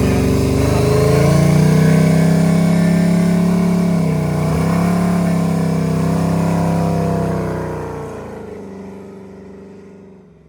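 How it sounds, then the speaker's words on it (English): A car doing a burnout in first gear, its engine revving hard and holding a loud, steady high-RPM roar close by before winding down and fading out near the end, with no talk. "It's the same burnout, more RPMs in first."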